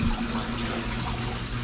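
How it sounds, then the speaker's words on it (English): Water floods into a basement through the gap between slab and wall, heard as a steady, close, broadband rush with a low hum underneath and no pauses. "Look at that water. It's coming from the same between slab and wall"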